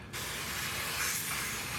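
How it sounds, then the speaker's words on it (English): Water sprays hard from a hose or nozzle to rinse off a glove during worm bin care with pine shavings, making a steady close hiss that starts abruptly and continues without pause. "I'm just going to spray off my glove here just to kind of clean it off."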